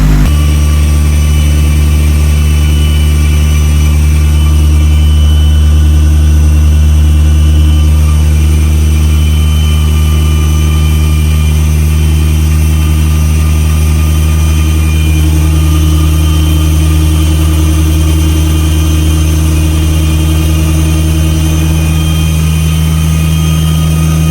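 A big-block Mitsubishi Evo 9 engine, built up with a PTE 64mm turbo and tuned to about 900 hp, idles steadily and loudly with a deep, even rumble throughout and no talking over it.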